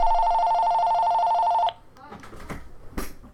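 A telephone rings with a steady electronic trill that cuts off partway through, followed by quiet shuffling and handling noises nearby.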